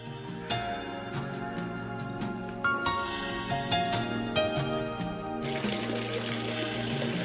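Water flows steadily and fills the space through the underground channel of the ancient Eupalinos aqueduct tunnel, a continuous close rushing wash with no voices.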